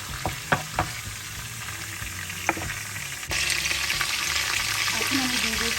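Garlic fries in hot oil on a stovetop with a steady sizzle and a few spoon taps, and the crackle grows louder and denser halfway through.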